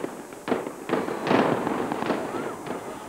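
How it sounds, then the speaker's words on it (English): Bursts and booms ring out in the skies over Amritsar near the Golden Temple, several broad blasts following one another over about three seconds with a rumbling, reverberant tail. "a different kind of explosion echoed through the skies over Amritsar"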